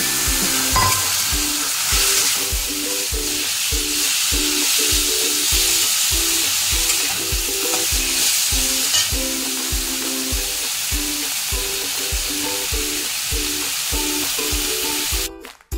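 Boiled kochur loti, or taro stolons, fry in a pan with salt, a strong steady sizzle over a quick rhythmic pattern of stirring strokes that fades toward the end, close by with no voices.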